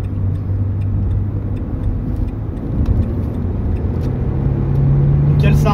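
Renault Clio 2 phase 2 1.6 16V petrol hatchback pulling hard from 50 km/h, a steady loud engine drone rising slightly in pitch throughout, with road and wind noise underneath and someone talking over it.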